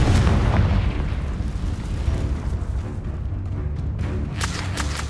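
A Confringo spell blasts in Hogwarts Legacy with a loud, deep boom that starts at once, then rumbles and crackles away over several seconds.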